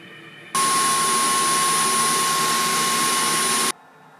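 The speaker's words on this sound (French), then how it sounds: "L'auto-nettoyage et le séchage des rouleaux du H14 ont aussi été silencieux, émettant entre 37 et 43 décibels." Dreame H14 wet-dry vacuum running its roller self-cleaning and drying cycle: a steady, loud broadband whir with a thin high whine, starting abruptly and cutting off cleanly after about three seconds, close by.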